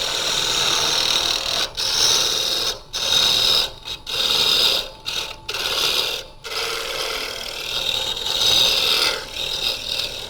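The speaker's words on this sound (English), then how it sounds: "a carbide tool is pretty quick at just getting rid of wood, getting it out of the way" A carbide tool cuts a wooden bracelet spinning on a lathe, making a loud, buzzing, scraping drone that keeps breaking off and starting again in short bursts as the tool is pulled away and pressed back in.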